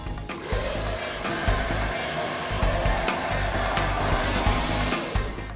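A hair dryer blows steadily and loudly up close, a constant rushing whine with slight wavering as the airflow moves around, and no voices over it.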